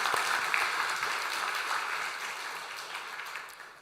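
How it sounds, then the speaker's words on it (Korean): A church congregation claps in warm applause to congratulate a member on a promotion, a steady patter of many hands that slowly fades. "우리 축하 박수 하겠습니다"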